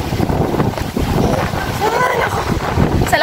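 Strong coastal wind at a rock formation in Ilocos buffets the microphone with a heavy, roaring rumble, while voices speak faintly beneath the gusts.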